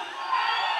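A crowd at a lively Mexican music gathering shouts and cheers in a loud, sustained roar, a burst of whoops and yells toasting the drinkers, with no clear speech standing out.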